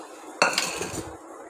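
Metal utensils clatter and scrape against a pressure cooker as beef is dropped in, followed by a few softer clinks and shuffling, close by.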